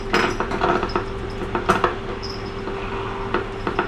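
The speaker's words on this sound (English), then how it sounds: "My coffee pot, I swear, never makes this noise" A malfunctioning home coffee pot clatters and rattles with irregular metallic clinks and scraping mechanical noises, fairly close, with a faint steady whine running underneath and no talking.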